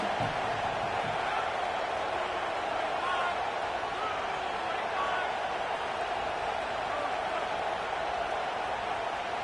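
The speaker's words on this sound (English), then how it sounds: "Decibels rising as the crowd gets behind this defense on third down." A stadium crowd in a college football video game, LSU versus Michigan, roars steadily for the full stretch, a dense continuous wash of cheering with no breaks, loud and far-spread.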